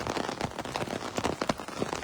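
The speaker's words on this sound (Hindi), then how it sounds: "बिल्कुल एक बराबर जो है बारिश लगी हुई है" Steady rain falls and patters on surfaces outdoors in Bilaspur, dense and continuous with scattered sharper drips, with no voices over it.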